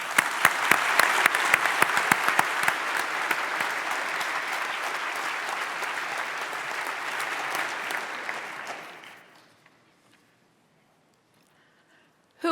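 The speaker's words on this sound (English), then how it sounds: "And a round of applause." A debate audience gives a speaker sustained loud applause, thick continuous clapping lasting about nine seconds before it fades abruptly into near silence.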